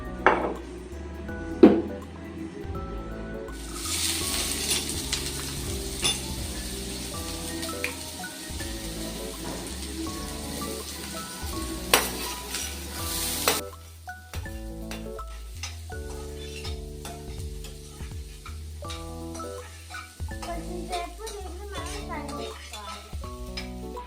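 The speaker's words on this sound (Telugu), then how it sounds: "సేమ్ పాన్లోకి ఆయిల్ వేసుకొని ఆనియన్స్ అండ్ చిల్లీస్ ఫ్రై చేసుకోవాలి" Onions and chillies fry in oil in a pan for street style egg noodles, with a steady close sizzle and occasional stirring scrapes and clinks, while background music plays along.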